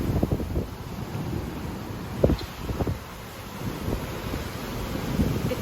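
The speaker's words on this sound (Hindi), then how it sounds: "इतनी तेज़ हवा चल रही है।" Strong wind blows across the microphone on a hot day in San Francisco, a steady low roaring rush with irregular gusty thumps building and easing throughout, no voices.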